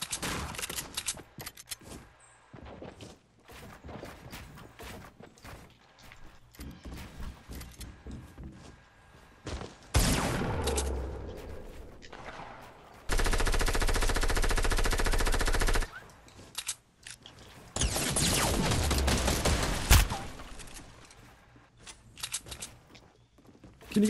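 Fortnite gunfire, with scattered sharp shots early on and then long sustained bursts of rapid automatic fire, loud and close, broken by short pauses.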